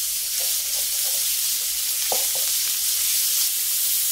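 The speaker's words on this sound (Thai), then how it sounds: "แล้วก็ใส่พริกแกงลงไปผัดให้หอม" Red curry paste stir-fries in a pan over medium-low heat, giving a steady, close sizzling hiss with a couple of brief utensil scrapes, and no voices.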